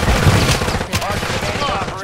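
A dense, loud stream of automatic gunfire crackles in a Warzone 3 fight, continuous rapid shots with booming hits, and a player's voice over it.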